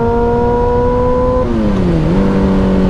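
A car drives past close by, with a loud engine tone that holds steady and then drops in pitch as it goes by, over dense road noise.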